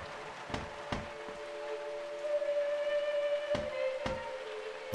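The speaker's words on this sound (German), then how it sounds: "Oh Gott, hier klopft ja jemand." Knocking inside the horror video game Mundaun, heard as two short pairs of sharp raps, one near the start and one near the end, over soft rain and a steady droning tone.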